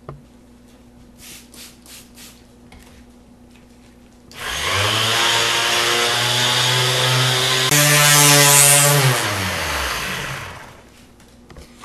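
Surface grinding and polishing with abrasive grit: a loud powered polisher spins up after a quiet start, holds a steady whining hum, rises in pitch briefly, then winds down.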